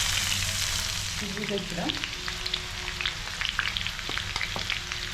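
Crushed shallots frying in hot oil for an okra stir-fry, a steady close sizzle and crackle running throughout with a few scraping stirs, briefly under a single spoken word.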